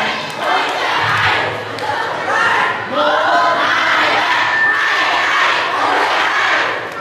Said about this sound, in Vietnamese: Chúng ta dành một tràng pháo tay nè.